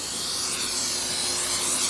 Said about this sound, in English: Now, I'm going to spray my dish here